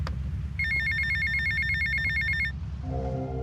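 A payphone rings in GTA Vice City with a repeated electronic trilling bell over the game's low background music. A different tonal melody follows after the ringing stops.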